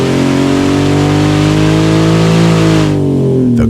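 A Porsche 997 Twin Turbo engine revs hard and loud in a sustained pull on a dyno, pitch climbing steadily, then cuts off abruptly near the end.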